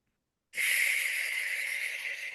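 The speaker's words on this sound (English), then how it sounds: "So let's take a deep breath." One long, deep breath drawn in after a short silence, a breathy, slightly wheezy inhale that starts abruptly and holds evenly for nearly two seconds, close to the microphone.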